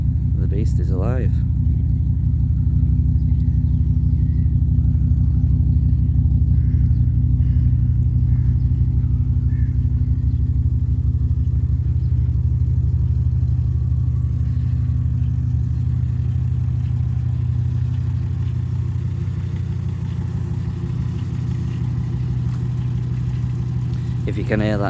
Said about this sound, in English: If you can hear that noise, I know what that noise is, so you don't need a comment. It's the timing chain on it.